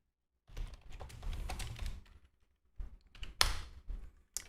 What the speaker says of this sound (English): I type in position size calculator